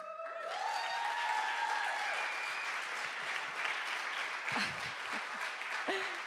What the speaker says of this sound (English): I'm going to ask you to give a round of applause for Yuri.